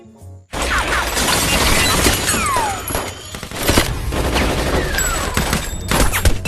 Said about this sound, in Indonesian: setelah itu adegan tembak-menembak pun terjadi